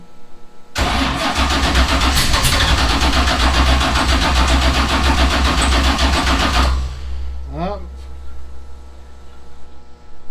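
A 427ci LS V8 cranks loudly and persistently with a fast rhythmic chugging for about six seconds, then the starter stops, leaving a brief low rumble.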